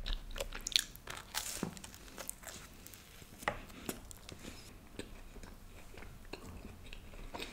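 Close, quiet crunching bites and chewing of Cafe Coffee Day garlic bread, with a few sharp crisp snaps early on followed by softer scattered chewing sounds.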